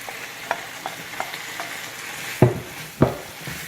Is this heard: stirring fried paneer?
yes